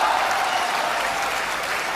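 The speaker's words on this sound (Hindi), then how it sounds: "तालियां थोड़ी कम थी" Audience applause at a Hindi kavi sammelan poetry recital, a steady, dense wash of clapping from a large crowd that runs loud and continuous for the whole stretch.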